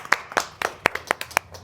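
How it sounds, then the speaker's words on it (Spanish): A studio audience claps in a short burst, around eight distinct sharp hand claps spaced fairly evenly and close to the microphone, sparse rather than a full dense ovation. "Un aplauso."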